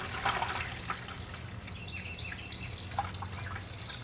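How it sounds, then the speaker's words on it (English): Liquid pours and trickles steadily through a cheesecloth filter, with soft drips and splashes throughout, close by. "We're simply just going to pour it in slowly, and the cheesecloth will filter everything out."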